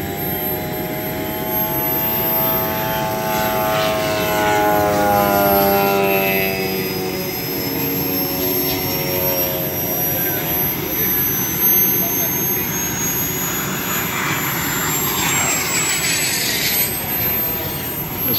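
A jet-powered airplane makes a high speed pass, a sustained loud roar with a sweeping pitch shift as it approaches and passes overhead.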